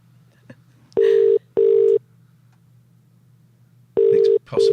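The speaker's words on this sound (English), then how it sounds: "Let's phone up my agent." A telephone sends out four loud, steady electronic tones in two pairs, with a low hum underneath and silence between them.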